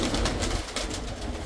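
A pigeon coos in soft, low, throaty bursts, close by and repeated across the short span, over a steady background rustle with no talk.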